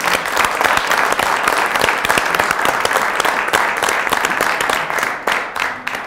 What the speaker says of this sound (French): Je crois qu'on peut vous applaudir.